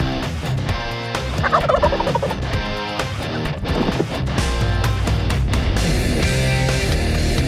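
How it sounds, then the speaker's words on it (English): Wild turkeys gobbling during a Kentucky spring hunt, loud bursts over a steady background of music, with repeated gobble calls rising and falling across the stretch. "successful Kansas hunt under Melissa's belt, the turkey tour heads to Kentucky, and these birds are in a fighting mood"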